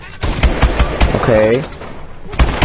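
AK-12 bursts in Call of Duty: sharp repeated gunshots crack at the start and end around a short spoken word, close and loud, with a steady rumble of game noise underneath.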